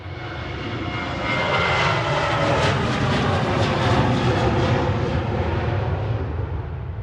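Passenger aircraft landing at Manchester Airport, a loud jet engine roar that swells to a peak and then slowly fades as the plane passes. Broad and steady, with no talk over it.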